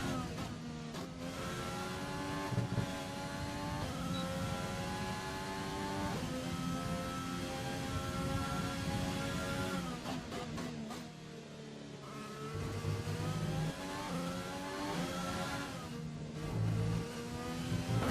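A Formula 1 car engine in F1 2020 screams through gear changes, loud continuous revving rising and falling with repeated upshifts and brief dips under braking, no voices over it.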